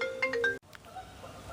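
A phone rings with a short electronic ringtone from an unknown caller, a few repeated tonal bursts that cut off abruptly, followed by quieter room sound.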